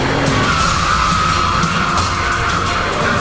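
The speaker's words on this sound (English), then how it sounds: "That was quite a nice balanced power slide." A Bugatti Veyron power-slides through a handling test, its tires squealing continuously under the engine's steady roar, loud and close for the whole stretch.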